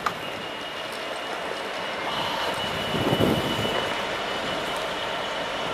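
A freight train moves through the Aachen West marshalling yard, drawn by a single locomotive at the rear, giving a steady mid-distance rumble of rolling wagons that swells slightly partway through, with faint wheel noise and no talk.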